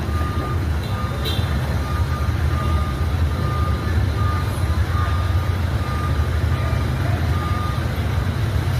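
A long truck makes a hard turn on a street in San Jose, Antique, Philippines, its reversing alarm beeping steadily and evenly throughout over a constant low engine rumble and traffic noise.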